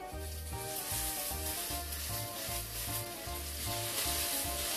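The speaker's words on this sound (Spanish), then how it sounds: "vamos echando las hamburguesitas." Burgers fry in a hot pan over medium-high heat, a loud, close, continuous sizzle with crackling spatter and a low, pulsing hum underneath, no voices.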